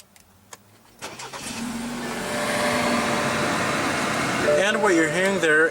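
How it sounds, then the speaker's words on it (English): A 2016 BMW 328i with the 2.0 L turbo four-cylinder and M Sport package fires up by push-button start, giving a sharp crank and catch, then settles into a steady, close idle. "what you're hearing there is a 2-liter turbo 4-cylinder"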